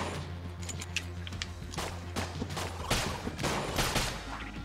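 Crossbow shots in the bullet-hell game Enter the Gungeon come as a quick, uneven series of sharp snaps and thuds over a low background hum of game sounds, with little talk.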